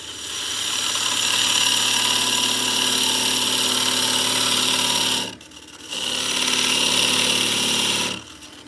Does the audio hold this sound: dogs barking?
no